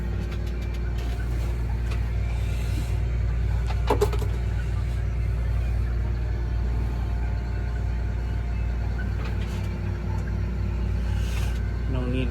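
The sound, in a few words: John Deere 750K dozer engine, driving off trailer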